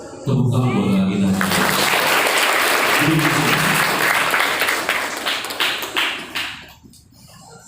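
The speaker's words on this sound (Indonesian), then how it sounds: "coba tepuk tangan buat kita" Dense audience applause fills a live motivational event for new students at an Islamic boarding school in Rajapolah, Tasikmalaya. It swells quickly, holds steady for several seconds with some voices mixed in, then tapers off near the end.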